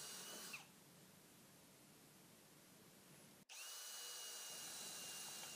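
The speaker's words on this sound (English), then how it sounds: "Then you go ahead and drill those holes." A power drill whines steadily as it bores holes in an enclosure door, with a brief pause before the motor spins up again, loud and close.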